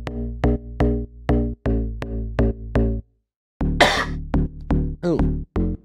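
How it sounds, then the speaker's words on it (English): FM synth bass made in Wavetable from a sine wave, playing a rhythmic pattern of punchy repeated notes, a pause, then a swept, wobbling note and more stabs, loud and alone. "all it is it's just this little FM sound I made in Wavetable."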